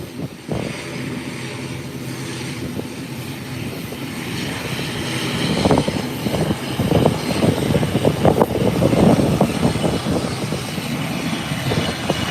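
An Airbus airliner takes off at an international airport, its engine roar building steadily and growing louder and rougher toward the end, heard from a distance with no talk.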